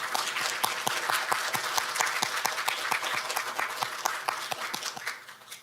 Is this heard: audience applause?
yes